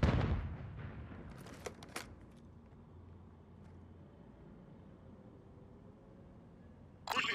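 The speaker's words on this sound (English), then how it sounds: "Stun grenade out!" A stun grenade goes off in a video game: a loud burst at the start with a ringing, muffled tail that fades into low rumble, then a second sharp burst near the end.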